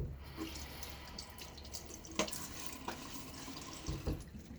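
A bathroom tap runs during a wet shave, a faint continuous trickle of water with a few soft splashes and clicks, quiet and close with no talking.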